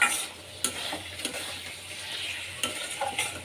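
Potatoes sizzle and fry in hot spiced oil while a utensil stirs and scrapes the pan in a few sharp clinks, steady and close, with no talk.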